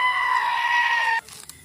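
A sheep bleats in a single sustained, loud, close call lasting just over a second before cutting off to faint background noise, in a rural setting where grass is being cut for livestock.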